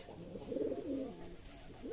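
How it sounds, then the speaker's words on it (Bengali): Pigeons coo softly in a low, rolling murmur, several calls overlapping close by with a steady indoor hum underneath, inside a pigeon loft on a farm in the morning. "আমার কবুতর ঘরে আর কবুতরগুলো খাওয়ার জন্য ছটপট করছে"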